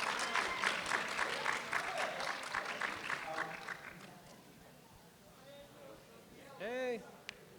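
A convention panel audience breaks into applause that crackles fairly loud for several seconds and then fades away, followed by quieter room sound and brief speech.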